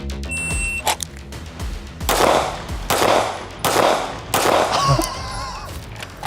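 Gunshots during a SWAT academy shooting test, with four loud, evenly spaced reports about a second apart, each with a booming echo, followed by a clattering metallic sound.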